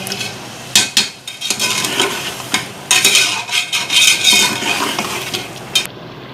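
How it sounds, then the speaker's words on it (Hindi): A spoon scrapes and clatters around a pot of spiced katwa gosht mutton being roasted in oil, in uneven bursts with loud knocks, close up, a brief sizzle beneath and no talking. "अच्छी तरह से इसकी बुनाई कीजिएगा ताकि ये सारे इसके मसाले जो हैं भून जाए"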